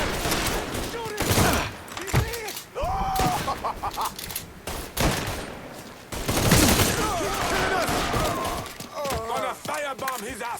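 Mafia III gunfights crackle with scattered shots and bursts of fire throughout, mixed with shouting voices and other game noise, loud and busy rather than isolated.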